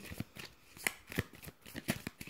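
Tarot cards are shuffled quietly for a reading, giving soft papery slaps and riffles in an uneven rhythm, close but faint.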